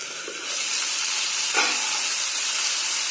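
Fiddlehead fern and potato frying under a lid in a covered pan, giving a steady, close hiss and sizzle that swells after a moment and holds evenly, with no talking.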